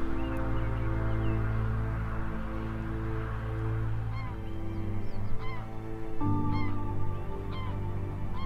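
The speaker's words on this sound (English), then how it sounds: "There's geese flying away in the background." Geese honking repeatedly as they fly off in the distance on a still early morning, calls fairly faint over a steady low background hum.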